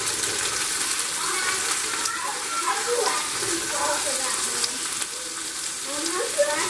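Peppers stir-frying in a pan for pineapple chicken, a steady, close, bright sizzle with faint stirring scrapes running continuously throughout.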